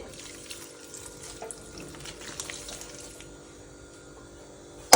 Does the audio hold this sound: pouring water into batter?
yes